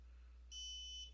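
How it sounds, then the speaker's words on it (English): An Onset HOBO MX1102 data logger gives one short, high-pitched electronic beep when paged, clear but quiet against near silence, lasting about half a second. "the logger will beep at us and say hello on the front of the screen"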